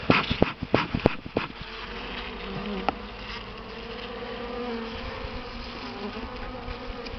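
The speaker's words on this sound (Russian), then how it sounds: "Пчел здесь много." Buckfast honey bees swarm around an opened hive during an early spring inspection, a dense continuous buzz close by, with a few sharp knocks and clicks at the start and no talking.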